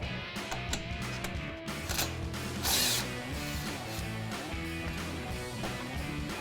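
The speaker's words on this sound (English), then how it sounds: "there is a 10mm bolt on the back side of the strut that holds on our ABS wire and our brake line. So we're gonna take that off." Ratchet removing a 10mm bolt from the back of a 2005-2014 Mustang strut, a rapid, continuous run of close mechanical clicking pawl ticks with no talk.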